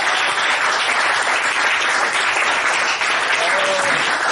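A church congregation applauds in a loud, dense, continuous round of clapping that fills the whole stretch.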